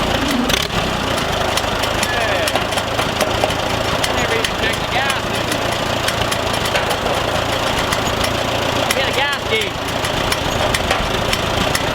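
A tractor engine idles after a choked start, giving a steady, loud chugging rumble with a knocking pulse throughout while people talk over it.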